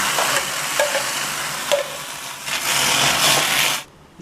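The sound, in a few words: ground sago added to hot wok and stirred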